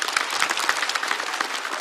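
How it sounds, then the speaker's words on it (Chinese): A studio audience at a comedy roast show claps together in a dense, lively burst of applause, close and fairly loud, holding steady for a couple of seconds. "再次掌声送给早安"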